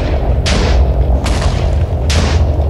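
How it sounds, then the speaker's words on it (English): Bombs going off in a modded Minecraft game land as three heavy booms with sharp attacks and rumbling tails, spaced about a second apart over a constant low drone. "Oh, you're throwing bombs!"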